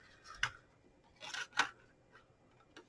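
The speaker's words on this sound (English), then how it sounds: "You want to punch a 1 3/4 inch or die cut a 1 3/4 inch circle" Punching a 1 3/4 inch paper circle for a birthday gift box: a few quiet, sharp crunching snips and clicks, spaced irregularly over a near-silent background, with no talk.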